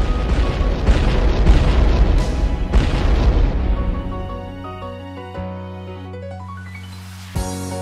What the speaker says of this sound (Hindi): तो ये कर देते हैं शहर के बाहर विस्फोट लगा के डायनामाइट।